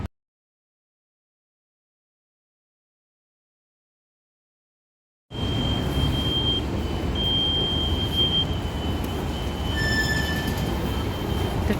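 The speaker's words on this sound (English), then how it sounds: "The train is just here." A SkyTrain pulls into a station platform in Vancouver after a few seconds of silence, its steady rumble with faint squealing tones rising close by.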